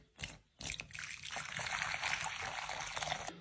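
Water is poured onto two vegetable stock cubes while making roasted carrot soup. A quiet, steady trickling splash runs close by after a short knock at the start.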